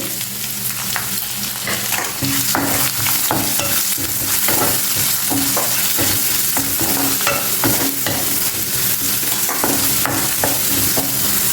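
Chopped onions and green chillies fry and sizzle steadily in a pan on a low stove flame, with frequent scraping stirs from a utensil throughout, a close and continuous cooking sound with no talk.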